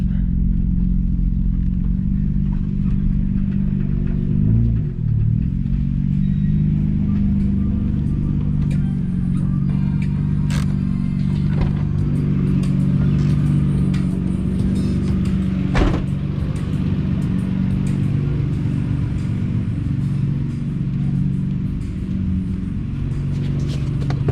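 Twin-turbo RB26 inline-six in a 1990 Nissan R32 GTR running steadily on a dyno, a dense continuous rumble with a loud low drone held throughout and a few brief clatters over it.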